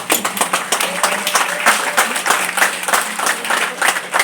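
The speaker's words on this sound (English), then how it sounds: "Let's give our graduates a big round of applause." Graduation ceremony audience claps for the graduates, a lively, uneven applause with distinct individual hand claps popping out over a continuous crowd patter, close and fairly loud.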